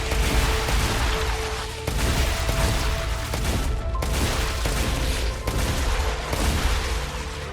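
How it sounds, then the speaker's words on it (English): Repeated shotgun blasts in the sci-fi game StarRupture, loud and close, several heavy booms spread across the stretch with bug creatures nearby, with no talk over them. "That shotgun does a bit of damage."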